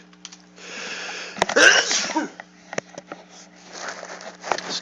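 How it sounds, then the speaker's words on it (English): A man sneezes once, loudly and close, mid-clip, after a few sniffs, with faint clicks and rustling around it in a quiet room. "I gotta sneeze."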